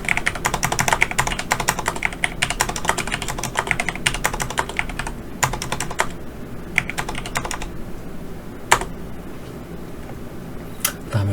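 Rapid, close computer keyboard typing while an Excel formula is entered, with quick irregular key clicks, a few louder isolated taps and short pauses, and no speech.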